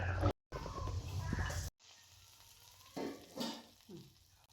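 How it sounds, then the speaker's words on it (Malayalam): Mustard seeds sizzle and crackle in hot oil while tempering for a Kerala-style bitter gourd theeyal curry, loud frying hiss early, then quieter spattering with a few sharp pops. "ഇനി നമുക്ക് ഇതിനകത്തൊന്ന് കടുകും കൂടെ വറുത്തിട്ടതിന് ശേഷം"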